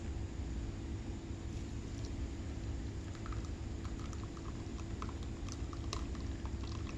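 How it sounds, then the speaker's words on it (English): Curdled tofu mixture is poured into a tofu press, a steady watery pouring and trickling sound over a low constant hum, with small splashes and taps toward the end. "And we're going to pour the mixture into the press."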